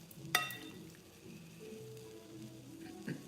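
Pieces of chicken tikka sizzle faintly on a bed of onions in a pan, a quiet steady hiss broken by one sharp clink near the start.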